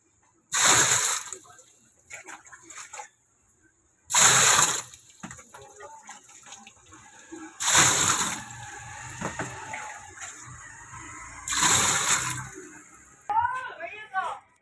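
Water splashes and gushes in repeated bursts as it is poured into a tub to soak laundry with detergent. The pours are loud and close, with quieter sloshing in between.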